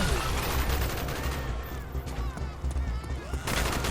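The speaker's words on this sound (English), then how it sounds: "Bowman, Carlos, lay down covering fire." Dense gunfire from a street battle in Call of Duty: Black Ops, with rapid overlapping bursts and shots filling the whole stretch at steady, loud intensity, and shouted voices mixed into the combat.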